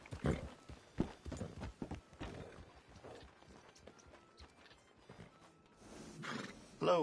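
Rhythmic hoof clip-clops from a horse in Red Dead Redemption 2, mixed with sharp effects and low background voices, growing busier toward the end.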